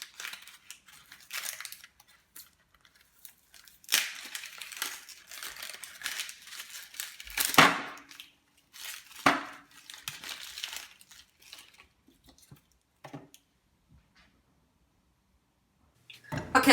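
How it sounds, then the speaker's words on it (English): Dry, papery skin is peeled off a large onion in a kitchen, producing irregular crackling and crinkling bursts separated by quiet pauses, with a few sharper crunchy rustles near the end. "So peel your onion first."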